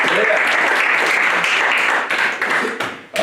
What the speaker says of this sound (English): can we clap our hands to God